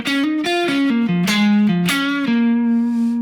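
Electric guitar playing a minor pentatonic blues lick, a quick run of distinct bent and sliding notes ending on a sustained held tone, loud and close with no talking.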